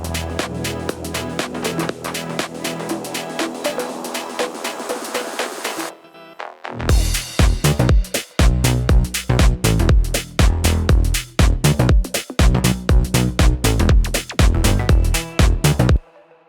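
Electronic bass plays within a full mix of an electronic song: a dense sustained passage breaks at a pause, then gives way to a punchy drop of loud, pulsing bass hits with rhythmic gaps, with no talking.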